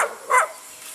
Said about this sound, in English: 7 dogs right here.